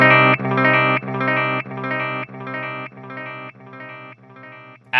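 Guitar notes run through a Boss DD-500 delay pedal, with feedback repeats and the highs boosted around 2 kHz, ringing out as a string of bright, bunched echoes that gradually fade in level.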